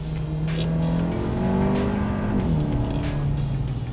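A 2021 Hyundai Elantra N Line's 1.6-litre turbocharged engine held loud and steady against its rev limiter, with sustained harmonic drone and slight pitch wavering, close and continuous throughout.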